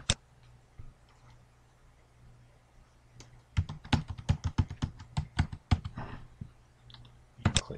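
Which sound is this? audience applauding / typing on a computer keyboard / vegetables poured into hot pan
typing on a computer keyboard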